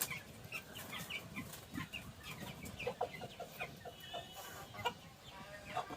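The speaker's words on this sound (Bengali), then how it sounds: "এই মুরগিগুলোকে আমরা এখানেই রাখবো" Newly arrived six-toed cotton ball chickens cluck in short, repeated bursts, several birds close by over a faint background hiss.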